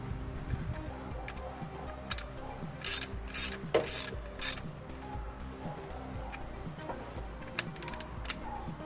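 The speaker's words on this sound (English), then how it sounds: "thread it in by hand at first, and then tighten it down with the ratchet" A hand ratchet tightens a spark plug in a Jeep Comanche engine, giving bursts of quick, close clicking pawl sounds with short pauses between strokes and a few metallic taps.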